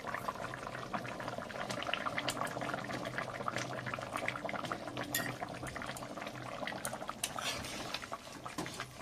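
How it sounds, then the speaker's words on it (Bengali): Meat curry boiling in a pot on a home stove, a steady bubbling simmer with scattered pops and small liquid crackles running continuously at close range, no talk. "ঝোলটা ফুটে উঠেছে"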